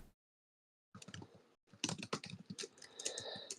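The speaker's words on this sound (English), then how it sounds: "People paying attention because I'm hearing typing." Rapid clicking of keys on a computer keyboard, close and fairly loud, in irregular bursts after a brief silence, with no voices.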